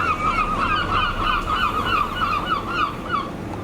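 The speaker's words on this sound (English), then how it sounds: "Flocks of gulls wheeled in our wake" A flock of gulls wheeling in a boat's wake calls again and again in harsh, overlapping cries over a steady wind rush, loud and fairly close throughout.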